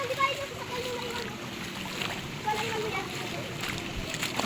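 Water splashes and sloshes nearby outdoors in a spot with a view, soft irregular splashing under voices as people talk close by.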